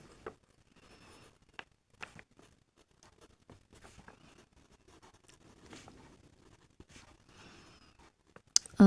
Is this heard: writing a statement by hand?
yes